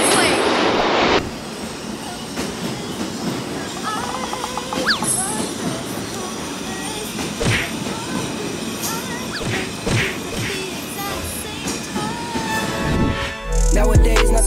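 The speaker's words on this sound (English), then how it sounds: "You hear that? That's a subway." A New York subway train rumbles past up close, loud and continuous, with metallic clatter and high wheel squeals throughout.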